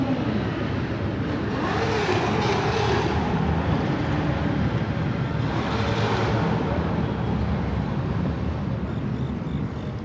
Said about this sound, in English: loud motorcycles and loud engines. Very loud.